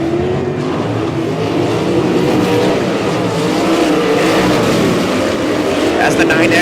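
Sprint cars lap Humboldt Speedway during a heat race, a dense, loud engine roar that holds steady, with an announcer talking over it.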